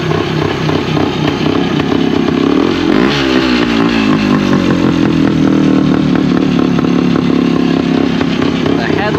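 A vintage Yamaha RT360 big-bore motorcycle engine idling and warming up, with a loud, continuous, rattly running note that rises in pitch briefly as the throttle blips, close to the listener.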